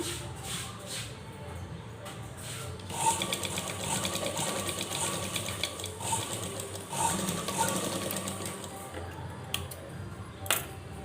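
A sewing machine stitches a fancy new-design dress with a continuous fast rattling whir, stopping and starting over several seconds with small ticks and handling noises.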